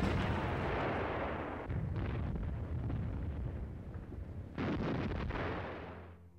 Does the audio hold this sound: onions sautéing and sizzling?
no